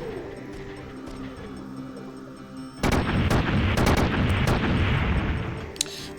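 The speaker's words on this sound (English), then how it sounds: "Man, explosions all over those squares." Artillery strike explosions in the video game Front Mission 3: a sudden heavy blast after a quieter stretch of faint ambient tones, followed by a dense roar of rumbling detonations with sharp cracks scattered through it.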